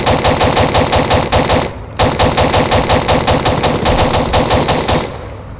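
Loud, close automatic gunfire from Arma 3 comes in two long rapid bursts of evenly spaced shots, separated by a brief pause, with the echo trailing off at the end.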